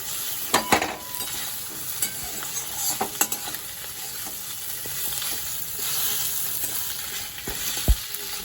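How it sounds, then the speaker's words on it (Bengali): Stirring in a frying pan as pui shak (Malabar spinach) cooks with a hilsa fish head, a steady sizzle with soft scraping and a few sharp clicks of the utensil against the pan. "সব কিছু ভালো করে একটু নাড়িয়ে নিচ্ছি"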